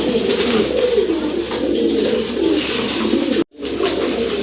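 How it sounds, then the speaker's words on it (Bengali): Pigeons coo continuously in a low, soft warble, close by, with a brief dropout near the end; no talking. "এখন কিন্তু দেখতে পাচ্ছেন আরেক জোড়া মিলি কবুতর"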